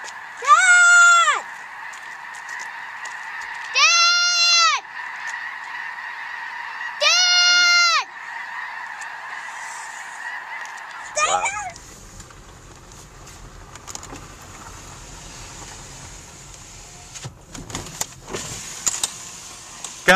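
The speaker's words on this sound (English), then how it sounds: "I caught a goose." Three loud honking calls come in evenly spaced bursts, followed by quieter rustling and handling noise.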